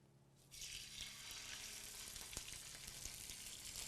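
Food sizzling and frying in a hot pan, starting with a sudden hiss and continuing as a steady crackle, with a faint clink partway through.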